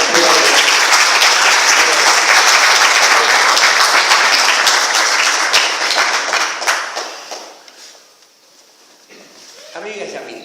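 Warm applause from an audience at a formal speaking event fills the space, loud and dense at first, then thins and fades away near the end as a voice starts to be heard again.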